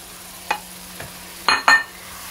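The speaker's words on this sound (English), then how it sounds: "I am frying this potato." Potatoes and green peas fry in a pan for aloo matar, with a faint background sizzle and four scraping stirs of a spoon against the pan, two soft and two louder in quick succession.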